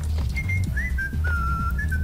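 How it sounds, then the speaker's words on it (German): Someone whistles a wavering, drawn-out tune in the Max Payne video game, moderately clear over a low rumbling ambient background with occasional soft thuds. "Wer pfeift eigentlich, ha?"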